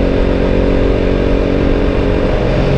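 A KTM RC 200 motorcycle accelerates in fourth gear with a loud, continuous engine drone, heard up close and steady throughout with no talking.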